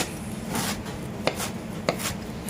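A knife chops garlic and flat-leaf parsley on a cutting board, giving a series of close, crisp taps in an uneven rhythm, two sharper knocks standing out, with no talk.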